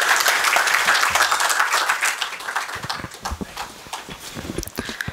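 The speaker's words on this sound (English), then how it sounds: "please give him a warm applause for his talk" A crowd gives a warm round of applause for a speaker's talk, dense and loud at first, then thinning into scattered individual claps that continue to the end.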